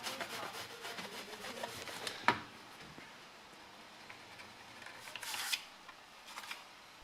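Old foam being scraped off the dashboard of a BMW E30, a soft, quiet, irregular rubbing and rasping that runs throughout with a few sharper scrapes, close by and with no talk.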